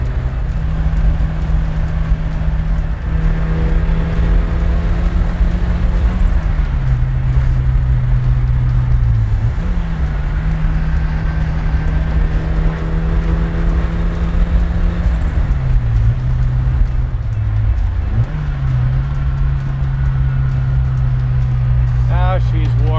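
A 1986 Ford RS200 'S' spec rally car cruising in fifth gear, its engine holding a steady low drone that dips briefly a few times, with constant road and wind rumble throughout.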